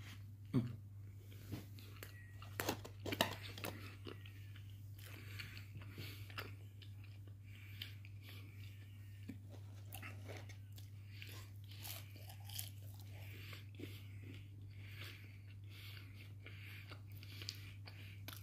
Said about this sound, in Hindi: अब मैं जल्दी से इसकी एक बाइट ले लेता हूँ